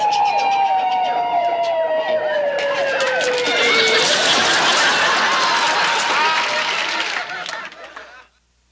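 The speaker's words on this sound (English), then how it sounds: "it was an ambulance" A loud wailing ambulance siren sweeps past, its pitch dropping as it goes by, with voices and commotion underneath before it fades out.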